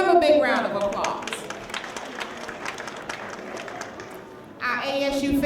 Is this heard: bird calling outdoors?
no